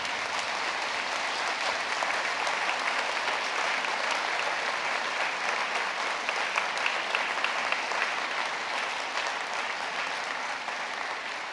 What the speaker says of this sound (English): A big round of applause for family and friends.